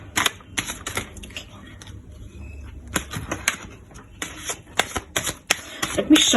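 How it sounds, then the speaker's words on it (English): Tarot cards are shuffled in quick bursts of riffling and snapping, irregular flurries close to the microphone with short pauses between. "Let me shuffle the cards"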